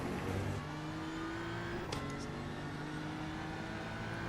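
A GT3 race car's engine in the iRacing sim hums along thin and steady at fairly constant revs, with a brief swell and then a dip in pitch near the middle, no talk over it.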